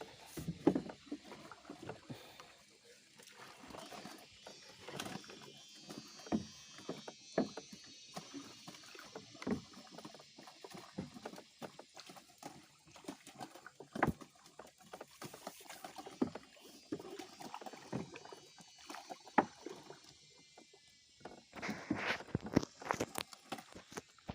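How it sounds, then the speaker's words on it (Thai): Loud tires of a BMW E90 330i squealing and skidding in long wavering whines as the engine revs doing donuts, the screech bending up and down through sustained spins. "ผมจะขัดท้ายเรือให้พ่อนะครับ"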